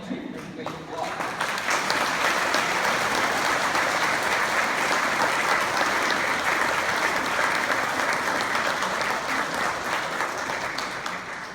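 Audience applause welcomes Premier Wade MacLauchlan at a church festival event, a full, sustained round of clapping that swells quickly and holds steady for over ten seconds, fairly distant and even.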